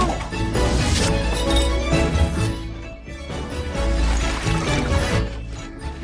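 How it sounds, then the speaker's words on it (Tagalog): Water is poured into a small toy dollhouse bathtub, giving a few seconds of continuous splashing and trickling that swells and eases in two waves, close and fairly loud. "Tubig, ang ganda!"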